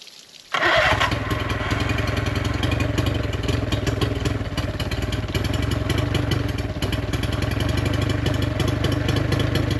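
An old boat engine that had sat unused for three years catches after a short quiet moment, then runs loud and rough with a steady clattering rumble as throttle is given.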